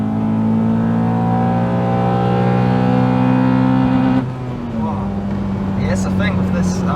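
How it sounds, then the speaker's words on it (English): A naturally aspirated Honda Accord Type S engine pulls at full throttle, its loud rising harmonic drone climbing for about four seconds before an abrupt drop, then settling into a lower steady note with brief vocal sounds near the end. "if you get the revs at just the right point, and then you just floor it, it's just instant, just bang on the power."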